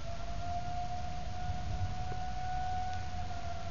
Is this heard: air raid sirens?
yes